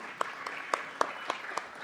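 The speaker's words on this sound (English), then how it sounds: "Let's give her a big round of applause." Applause from the audience at a Los Angeles city council meeting, a steady wash of many hands clapping at moderate distance, with a few sharper individual claps popping out above the crowd.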